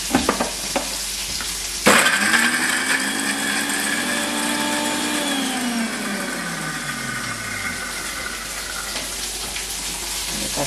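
A mixer grinder whirs as it grinds coconut and tomato for garlic gravy, starting abruptly with a loud burst then running steadily with a pitch that slowly falls, no voices over it.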